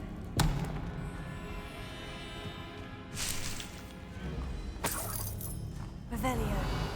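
Spell blasts from Hogwarts Legacy: a sharp crack near the start, then two more bursting impacts a few seconds apart, loud against a steady backdrop of game music and ambience, with a player shouting spell names throughout.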